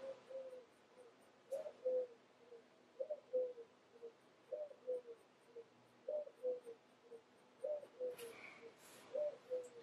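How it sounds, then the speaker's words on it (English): A pigeon outside an open window coos softly and repeatedly in a steady rhythm, roughly one low, hooting phrase every second or two. The sound stays faint against a quiet indoor room. "And now there's like a pigeon or something."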